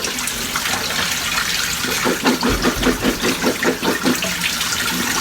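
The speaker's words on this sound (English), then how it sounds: "first we need to wash the olives" Cracked green olives being washed in water, with sloshing and splashing that turns into a rhythmic series of swishes midway, close and clear with no talking.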